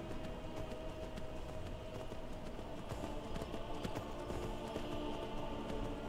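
A horse gallops in the video game Skyrim, its hooves pounding in a fast, steady rhythm over continuous in-game ambience.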